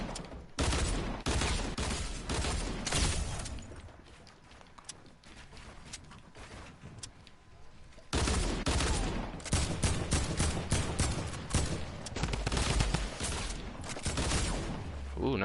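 Rapid bursts of gunfire rattle through a Fortnite match, dense volleys of shots crackling almost continuously, easing briefly in the middle before a loud fusillade resumes.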